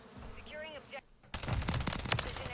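A voice briefly precedes a short break, then a Call of Duty gun from the 8 Bit Blitz tracer pack fires a loud, dense automatic burst that continues steadily to the end.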